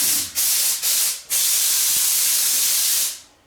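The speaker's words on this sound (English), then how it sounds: "I'm just trying to blow some of the dust off of it" Compressed air blasts dust off a scuffed car part during a Cutlass paint job: three short sharp hisses, then one long steady loud blast that cuts off, close to the microphone.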